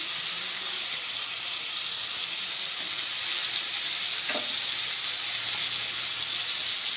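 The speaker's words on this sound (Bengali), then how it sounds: "আমি ফুলকপিগুলোরে লাল করে ভেজে নেব সেই ফুলকপি ভাজতে বসিয়ে দিয়েছি" Loud, steady sizzling of cauliflower pieces frying in hot oil until browned, a constant crackling hiss close by with a brief clink partway through.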